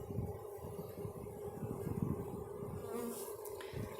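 A steady, dense buzzing hum of many honeybees fanning their wings at the hive after a swarm transfer, close and continuous, with a slight drone rising and falling throughout.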